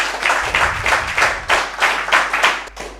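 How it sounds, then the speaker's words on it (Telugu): An audience at a gathering claps loudly in a brisk, dense burst of many hands, rhythmic swells of applause filling the short moment, close and alone with no talking. "ఒక్కసారి గట్టిగా క్లాప్స్ కొడదాం"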